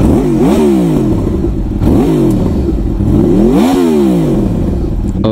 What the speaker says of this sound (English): it still has this stock exhaust, but the cans are gutted, so the baffles are removed, and it sounds incredible